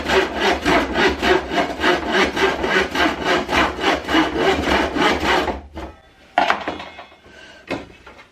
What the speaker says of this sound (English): The sketch info was used to cut out a plywood sheet big enough to create a template for making the skeg.